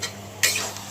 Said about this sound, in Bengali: তো মাংসটাও দিয়ে দিলাম চুলার মধ্যে